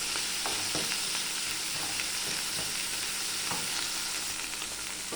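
Mushrooms sizzle steadily in a hot pan for a chicken cream dish, with a continuous frying hiss broken by periodic soft scrapes of stirring.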